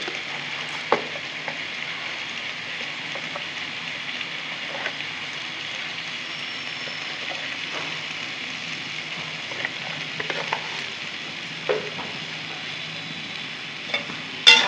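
Vegetable curry with lentil bori frying in a pan gives a steady, soft hiss throughout, broken by a few light stirring knocks and clicks, close and fairly quiet, with no voices.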